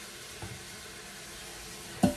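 Onions added to browned mince in an Instant Pot give a faint, low sizzle, with a soft knock early on and a louder clatter near the end.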